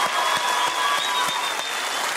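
Loud, sustained applause from a studio audience at a Colombian Saturday comedy variety show, steady clapping filling the whole stretch with no talk over it.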